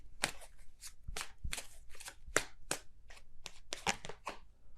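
Tarot cards shuffled by hand, giving a quick, close series of crisp riffling snaps and slaps in an uneven rhythm.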